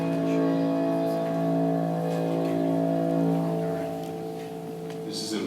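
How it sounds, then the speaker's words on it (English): Unconventional bowed piano sound, a sustained, resonant drone of steady overlapping tones that swells and slowly fades, heard close and alone, with a brief brighter scrape near the end. "I'm going to give it some unconventional bowed piano sound like this."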